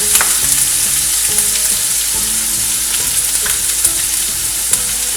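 An onion mixture with turmeric sizzles loudly in a pan as it is sautéed, a constant bright frying hiss broken by clinks and scrapes of stirring, close and without talk.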